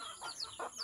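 Soft, short clucks from chickens, two or three brief calls close by in a quiet setting.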